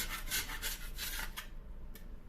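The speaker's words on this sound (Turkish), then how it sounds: "Şimdi önce bir kabasını artık kazındığı kadarını kazıyıp alacağım." A scraper is drawn repeatedly across a painted granite, marble or wood kitchen countertop to lift softened paint stripper, making several close rasping strokes in quick succession, then one last short scrape after a pause.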